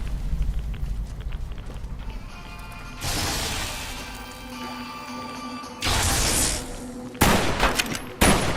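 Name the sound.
shotgun firing in Fallout New Vegas video game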